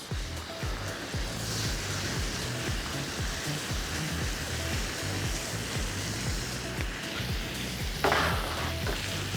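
Onions fry in a hot pan for a steak sandwich, giving a steady, soft sizzle with a low rhythmic rumble underneath and a brief louder burst near the end.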